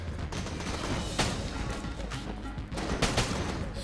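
Rapid gunfire while shooting enemies in the game Enter the Gungeon, a dense run of sharp shots and bursts that is loud and near throughout, with no voice over it.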